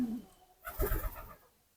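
A racing pigeon in a home loft gives a single short, soft coo close by, with quiet surroundings before and after.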